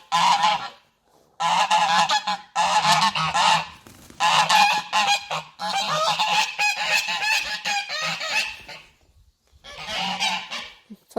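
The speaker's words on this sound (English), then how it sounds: "There's the geese." A flock of geese honking loudly and close by, in repeated noisy bursts with short pauses between, no talking.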